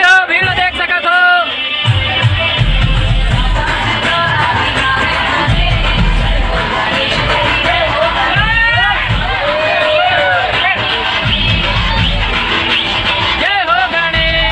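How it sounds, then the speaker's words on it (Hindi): A Ganesh immersion procession crowd at Shiv Chowk in Ramnagar creates a dense, loud hubbub that runs the whole way through, mixed with shouts and pounding DJ music. Voices come and go over the din. "संगवारी हो, भीड़ देख सकत हो।"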